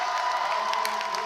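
A high school basketball crowd cheers and shouts in a gym after a two-hand dunk, a dense, sustained roar of voices with a few whoops rising above the din.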